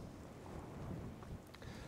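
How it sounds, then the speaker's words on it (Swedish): Fresh wind blowing outdoors along a coastal stretch, a steady low rumble of buffeting against the microphone, fairly faint overall, with a couple of brief higher ticks near the end. "Nu blåser det friskt."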